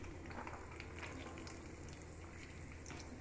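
Green chili pieces sizzling in hot oil with urad dal, a soft, steady fry hiss with faint stirring, close and quiet, heard alone.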